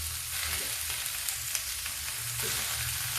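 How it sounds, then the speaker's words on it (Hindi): Tomato paste sizzles and fries in a pan with cabbage and peas, a steady hissing crackle with a few soft stirring scrapes and no talking. "ये देखो अब जाएगा इसमें मेरा टमाटर का पेस्ट।"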